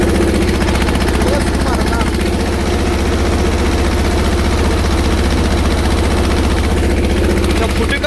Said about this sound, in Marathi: आता फुर केलं बघा ट्रॅक्टर धक्का स्टार्ट